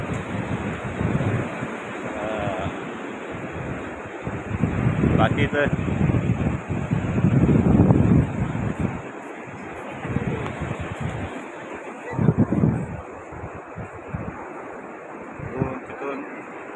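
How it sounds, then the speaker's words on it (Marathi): Sea waves roll onto Arambol beach in Goa, a loud continuous surf wash swelling and easing with strong wind buffeting the microphone, while a person speaks briefly over it. "लाटा मस्त येतात ना समुद्राच्या जवळजवळ"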